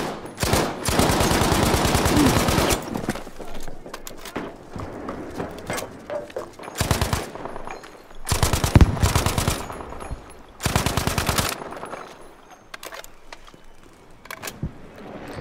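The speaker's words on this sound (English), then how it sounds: "the SIG Nauhausen KE7 Swiss light machine gun" Several loud bursts of rapid automatic gunfire from a SIG Neuhausen KE7 Swiss light machine gun in a video game, separated by short pauses with quieter mechanical clatter and shell sounds in between.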